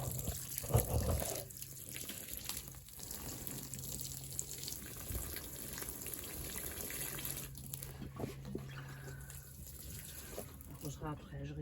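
Water splashes and trickles steadily in a garden, poured out continuously for several seconds with a running, close sound, and faint background noise throughout.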